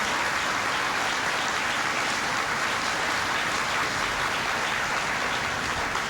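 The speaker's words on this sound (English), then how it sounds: "That's worth applauding." Audience applause at a presidential speech at Argonne National Laboratory in Lemont, Illinois, a steady, full wash of clapping that fills the whole stretch without a voice over it.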